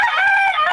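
A rooster crows loudly and close, a single drawn-out cock-a-doodle call with no other sounds around it.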